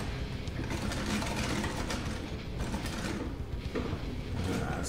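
A 1910 sewing machine stitching a new pair of jeans, a continuous close mechanical whir and clatter of gears and needle running steadily without talk.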